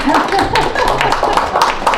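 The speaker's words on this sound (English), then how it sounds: "Keep clapping until she gets it." Clapping from a small audience at a table topics club meeting as a guest speaker comes up, close and fairly loud, with voices talking over the hand claps.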